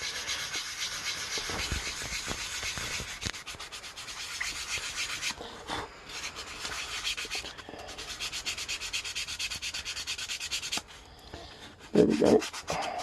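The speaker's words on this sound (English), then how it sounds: "We're just going to lightly sand the surface of it" Steady scratchy rubbing of sandpaper lightly across balsa wood to remove grinder marks, continuous and close, with brief pauses and a short louder scrape near the end.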